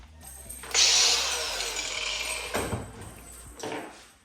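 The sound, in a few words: grinder chopping a piece for ladder light fixture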